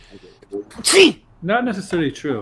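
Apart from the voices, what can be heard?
sneeze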